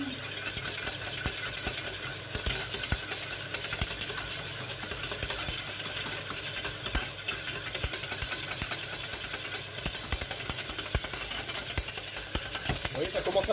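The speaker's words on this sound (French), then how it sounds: "Et là, on fouette." A whisk beats a sauce in a pan over high heat, producing a steady, rapid metallic scraping rhythm close up that carries on throughout, with faint sizzling underneath.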